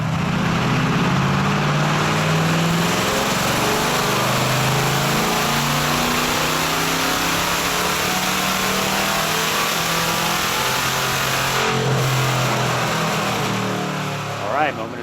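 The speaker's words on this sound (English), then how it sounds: "Vlad straps the car back down to the dyno to dial everything in and see what the intake actually does." A 600 whp naturally aspirated C8 Corvette with a Wilson intake manifold holds a loud, steady high-rpm roar on a dyno for the whole stretch, with engine tones shifting slightly and a brief blip at the end.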